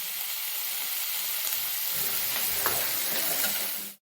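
Chillies and capsicum frying in a pan for soya chilli, a steady close hiss of sizzling oil with faint stirring scrapes, continuous and unaccompanied by talk before cutting off abruptly.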